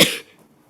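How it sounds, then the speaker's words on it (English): A person sick with an illness that makes them cough gives one short, sharp cough up close, and it fades quickly into quiet. "Why do I keep coughing"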